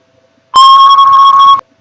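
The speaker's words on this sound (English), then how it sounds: "Let's listen to what my flute sound like." A synthesized flute tone from music-making software: one steady, sustained note about a second long, loud and bright with clear overtones, sounding alone in an otherwise silent space.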